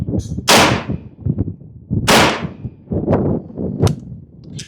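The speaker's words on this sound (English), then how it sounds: "let's go ahead and empty the rest of the magazine so that we can do so safely" A T50 Extreme or BINTAC T9 9mm air pistol fired to empty its magazine, two loud sharp shots about 1.6 seconds apart, then lighter clacks and mechanical handling noises with faint background sounds.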